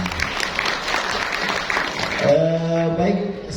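Audience applause at a school parenting seminar, a dense wash of clapping from a crowd that runs throughout, with a sustained tonal hum or musical tone entering in the second half.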